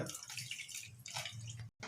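Water being poured into a pressure cooker, a quiet splashing, trickling stream that runs steadily for nearly two seconds before a brief break.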